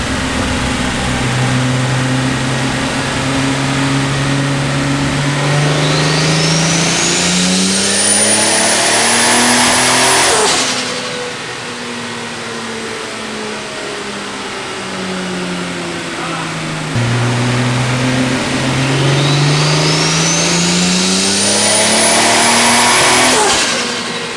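A Nissan R32 Skyline with an RB26 engine revs on a dyno in two long loud pulls, pitch climbing steadily to a high scream before cutting off, with a lower idle between runs.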